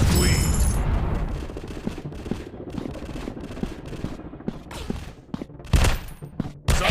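Rapid gunfire and a grenade blast in an FPS shooting video game, with dense bursts of shots throughout and a couple of sharper booms near the end, loud and continuous.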